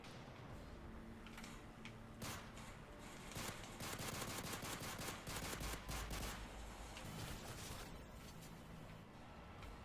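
Rapid video game gunfire with pistol shots, a dense run of sharp repeated bangs that grows busier in the middle, loud and continuous over a steady game background.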